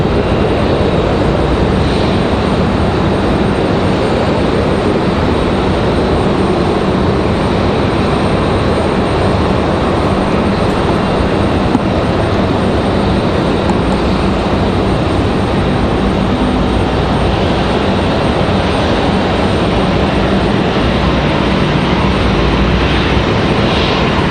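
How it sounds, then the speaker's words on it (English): Alaska Airlines jet airliner taxiing at Raleigh-Durham International Airport, its engines producing a loud, continuous close roar and rumble that holds steady throughout, with no voices. "Rolling down the hill here, Alaska Airlines."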